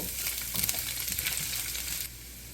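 Chopped garlic frying in a hot pan over nigella and fenugreek seeds, a busy crackling sizzle with a few louder pops early on that drops to a quieter hiss after about two seconds.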